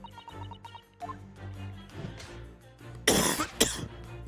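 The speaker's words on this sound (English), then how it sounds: "I'm really sorry for the coughing." A couple of sharp, harsh coughs burst out near the end, following quieter rustling and small vocal sounds.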